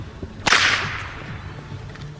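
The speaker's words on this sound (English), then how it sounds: "the second whipper walked over the bridge and hesitantly let me record his whip up close." A close-up crack from a whip swung by a second whipper, one sharp, loud snap followed by a booming, ringing tail that fades over about a second and a half, with no voices.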